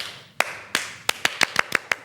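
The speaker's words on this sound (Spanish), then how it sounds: "Este aplauso es para él." A few sharp, separate hand claps sound close by on a children's TV program, spaced irregularly and then quickening into a short cluster of about eight distinct claps.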